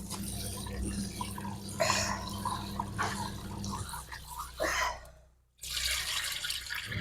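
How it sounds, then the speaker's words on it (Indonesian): Glutinous rice being washed in water in a home kitchen for corn porridge, with steady sloshing, trickling and dripping close by, a brief pause near the end, then splashing again. "Tak cuci beras dulu"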